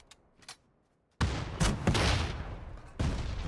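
Gunfire in a PUBG custom match: a few faint distant pops, then a loud heavy shot followed by several more booming reports and a trailing rumble, fairly close and without talk.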